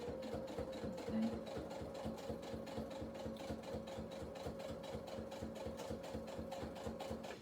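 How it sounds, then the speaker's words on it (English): A sewing machine stitches a charger and phone pouch in a fast, steady mechanical chatter, each needle stroke evenly spaced and close by, running without pause and without speech. "So I'm going to sew all the way down to the bottom, and stop about 1/4 inch away from the bottom."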